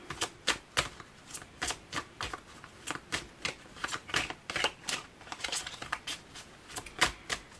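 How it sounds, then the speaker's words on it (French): Tarot-style cards being shuffled and drawn for a reading, a steady run of crisp, close riffling snaps and flicks that repeats many times with no voice. "On va prendre autant de cartes tout de suite."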